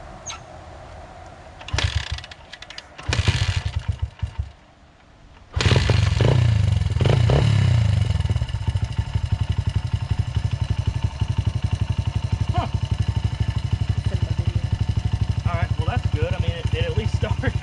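Honda CRF 80F dirt bike engine, a free project machine started on choke, catching after a few short bursts and then idling in a steady rapid putter close up, with a person talking over it.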